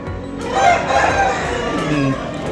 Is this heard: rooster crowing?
yes